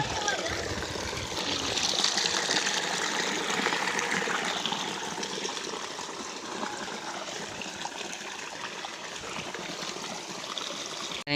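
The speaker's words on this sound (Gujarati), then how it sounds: "પાણી આવે છે" Rainwater running down a freshly filled stream after a heavy downpour, a continuous close trickling and gushing rush that swells slightly early on, then stays steady to the end.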